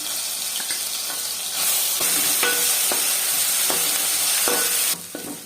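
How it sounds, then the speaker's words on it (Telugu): A spoonful of ginger garlic paste fries in hot oil for veg biryani, sizzling steadily up close and briefly louder as it is added, with regular stirring knocks against the pan and no talking. "అల్లం వెల్లుల్లి పేస్ట్ వేసుకున్నాం 1 స్పూను."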